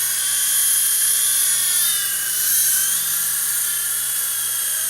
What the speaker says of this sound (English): it's a pretty easy RC helicopter to fly